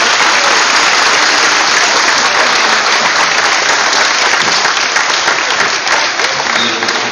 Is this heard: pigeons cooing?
no